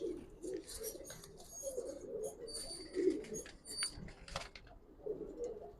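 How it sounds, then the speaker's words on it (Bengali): A black-beaked female Giribaz pigeon coos in low, throaty repeated phrases, close by, with faint clicks and rustles in a quiet space and other birds chirping softly in the background. "কালো ঠোঁট কবুতরটা"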